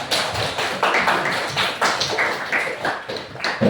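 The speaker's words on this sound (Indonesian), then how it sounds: "kasih aplaus dulu untuk teman kalian" A classroom of students applauds a classmate with brisk, uneven clapping that carries on steadily for several seconds, close and lively, with no talk over it.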